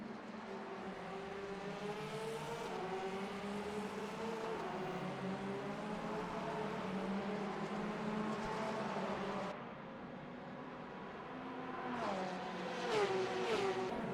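Blue number 77 Porsche race car in the Le Mans Ultimate racing game at Fuji in a multi-class race, its engine droning and climbing through the gears, with a brief lift-off dip and renewed revving.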